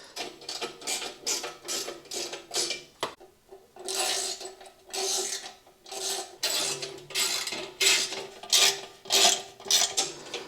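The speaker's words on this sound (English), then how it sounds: "we're going to go ahead and gradually tighten all the bolts." Ratchet wrench tightening the skid plate bolts on a Suzuki V-Strom 800, a rapid clicking ratchet in repeated bursts with short pauses, close and clear, with no talking.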